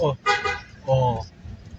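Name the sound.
car horn honking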